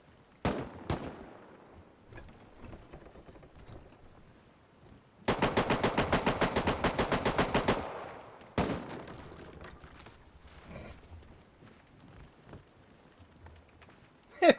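Rapid automatic gunfire in a video game, fired into a ceiling, rattles out in a dense loud burst lasting a couple of seconds, with a few scattered single shots and clattering game sounds before and after.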